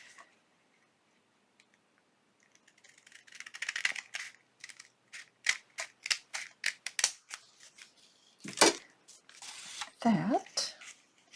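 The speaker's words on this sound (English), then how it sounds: "Get my longer scissors." Scissors hand-cut paper for a junk journal, a quiet run of crisp snips and rustles that starts sparse and builds into a quick irregular series of sharp cuts, close up.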